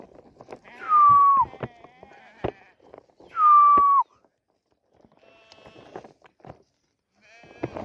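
Two loud, close lamb bleats sound a few seconds apart, with softer rustling and small thumps around them.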